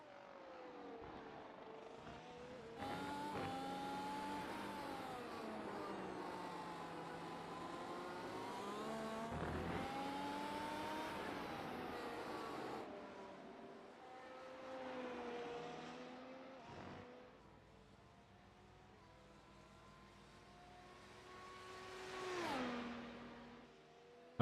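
Formula race cars lap the Hungarian GP circuit in iRacing, their engines whining up and down through gears as cars pass at varying distance, fairly faint with no talk.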